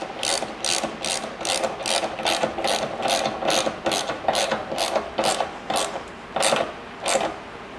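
Ratchet wrench tightening roof rack bolts on a Toyota 4Runner gives a rapid, even series of sharp clicks at close range, continuing steadily with no one speaking.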